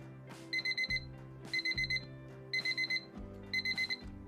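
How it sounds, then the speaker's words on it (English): Wrenwane digital kitchen timer alarm going off with loud, clear electronic beeps in four rapid bursts of four, repeating about once a second, with no other sound. "The alarm is loud and clear and can easily be heard in the next room."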